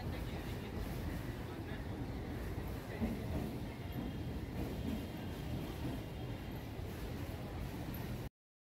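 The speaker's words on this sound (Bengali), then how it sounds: "মন্দিরের পাশ থেকেই যাচ্ছে ট্রেন" A train rumbles past beside the Jagannath temple near Kidderpore station in Kolkata, a low, continuous roar heard from nearby that holds steady and then cuts off.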